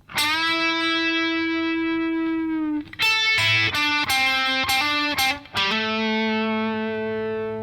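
A distorted electric guitar plays a solo, opening with a long sustained bent note, then a run of quick, choppy phrased notes and a final held note, loud and close without speech.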